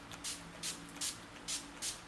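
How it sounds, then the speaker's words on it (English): Five short hissing spritzes of NYX Matte Finish setting spray, evenly spaced and close by, in an otherwise quiet room. "I'm just going to go in with my NYX Matte Finish setting spray"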